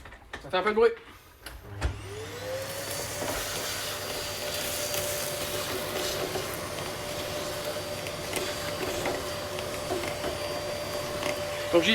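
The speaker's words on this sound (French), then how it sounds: "je prends mon aspirateur que j'ai prévu et bien sûr je vais aspirer mon corps de chauffe" A vacuum cleaner starts up after a brief rustle and then runs steadily cleaning a boiler's heating body, with a droning motor whine and a high hiss throughout.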